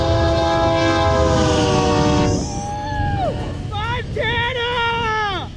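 A loud train rumbles past close by while its horn blasts in long harmonic tones, followed by shorter falling horn notes as it moves away.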